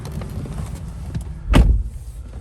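Someone climbs into a 2020 Ford F-150 Raptor pickup: low rustling and shifting, then one firm thud from the seat or door, heard close.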